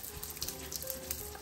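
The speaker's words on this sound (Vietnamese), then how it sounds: "bây giờ là mấy chị đó sẽ chiên nè." Spring rolls (chả giò) frying in hot oil in a home kitchen, giving a soft, steady sizzle and crackle throughout, with faint background noise and no talking.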